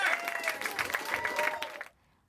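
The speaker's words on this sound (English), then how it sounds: "Guys, start clapping." Comedy club audience clapping and cheering loudly for about two seconds, a dense burst of applause with some whoops that cuts off abruptly into near silence.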